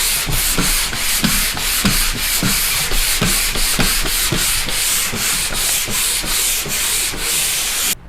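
Pole sander scraping back and forth across a drywall wall in a garage, a steady rhythmic rasping of repeated strokes, close and loud, with no talking.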